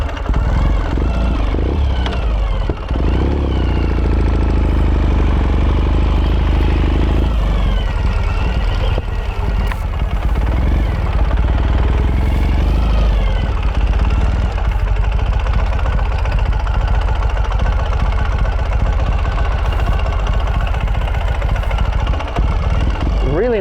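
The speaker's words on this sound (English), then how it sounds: "Really nice sound from this exhaust system." A 2014 Ural Gear Up motorcycle with electronic fuel injection idles through its exhaust, a loud, continuous low rumble close by that shifts slightly in pitch, with some faint voices underneath.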